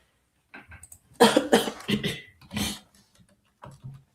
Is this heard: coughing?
yes